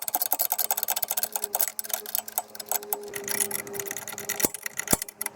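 Bolts are worked out of a Can Am X3 muffler with a rapid, rattling ratchet-like ticking, close and fairly loud, broken by a couple of sharp metallic clicks near the end.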